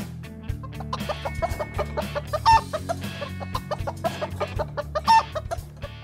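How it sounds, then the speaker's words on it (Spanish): A rooster and hen cluck repeatedly in a henhouse, with clear, close, rhythmic calls sounding over a steady musical background. "El gallo y la gallina vivirán aquí."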